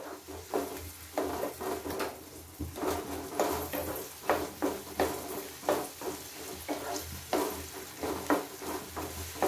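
Ginger-garlic paste with onion fries in a pan for a mixed potato, pea and carrot curry, stirred with a spoon in steady scraping strokes over a low continuous sizzle, close and moderately quiet.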